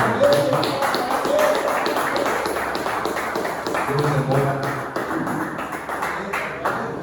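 Church congregation clapping steadily throughout, a continuous patter of many hands with voices talking and calling out over it in a reverberant hall.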